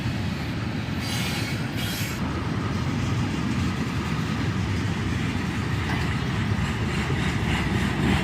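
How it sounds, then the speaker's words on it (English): A freight train led by two ES44AC diesel locomotives rolls into a siding, a loud, continuous rumble of wheels and cars passing close by, with brief brighter squeals near the start and no talking. "This train is led by a pair of ES44 ACHs as it heads into the siding."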